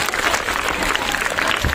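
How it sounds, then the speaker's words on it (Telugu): Children clapping together in applause at a school Children's Day quiz event, a steady, dense patter of many hands lasting throughout, fairly loud and close. "Claps for your self."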